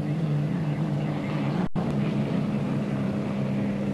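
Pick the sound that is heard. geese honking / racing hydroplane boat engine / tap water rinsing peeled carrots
racing hydroplane boat engine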